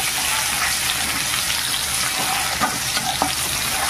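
Crushed whole garlic frying with taro greens in a pan, a loud, dense, continuous sizzle with stirring scrapes close by.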